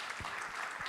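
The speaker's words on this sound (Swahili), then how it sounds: "Makofi kwake akikuja." Brief applause at a Safaricom event in Nairobi as a speaker comes on stage: a short burst of clapping, moderately distant, with a crowd murmuring faintly.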